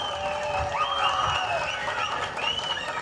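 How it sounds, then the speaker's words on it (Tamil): Crowd applause at an outdoor election campaign rally in Kolathur, a steady wash of many hands clapping with scattered cheers, continuous and fairly loud without pause. "நீ கைதட்டுற பார்த்தா நம்ம ஆளுங்க வந்திருக்காங்க"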